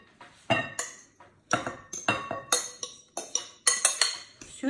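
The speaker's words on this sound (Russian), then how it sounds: "Все это мешаем." Spoon clinking and scraping against a bowl while minced meat is mixed with zucchini, onion, herbs and garlic for chopped cutlets, a quick irregular series of sharp close metallic knocks with no talking.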